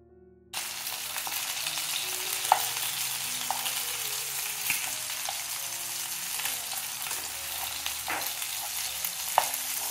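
Spicy Andhra-style fish kebab frying in hot oil on a tawa: a loud, steady, close sizzle with occasional sharp pops and spatters, starting abruptly and continuing throughout.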